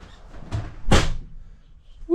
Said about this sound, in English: I'm gonna open this door back up.